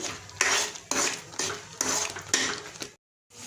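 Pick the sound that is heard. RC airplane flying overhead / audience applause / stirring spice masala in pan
stirring spice masala in pan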